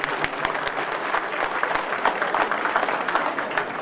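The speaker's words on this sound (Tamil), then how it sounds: "அவர்களை மீண்டும் கரகோஷத்தோடு வரவேற்றுக் கொள்ளுங்கள்." Audience applause welcoming dance performers from France at an Indian cultural stage show in the Netherlands, a dense, steady wash of many hands clapping throughout with no one speaking.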